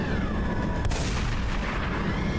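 A heavy weapon fires on a tank in the Ravenfield video game, a single sharp loud blast followed by a booming rumbling decay, with no talking.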